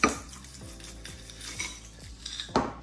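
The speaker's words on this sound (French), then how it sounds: "Donc là j'ai mis mon yaourt avec mes graines de chia, je vais mélanger." Spoon stirring yogurt with chia seeds and muesli in a bowl, a run of close, rhythmic scraping clinks against the dish, ending in a sharper knock.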